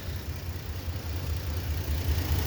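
A Toyota Land Cruiser FJ80, revived after sitting abandoned, idles steadily with a low, even rumble that holds throughout, with no voices over it.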